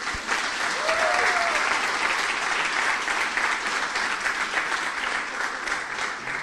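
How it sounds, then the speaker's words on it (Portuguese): Steady applause from a church congregation fills the room, continuous clapping at an even level from start to finish. "uma sala de palmas"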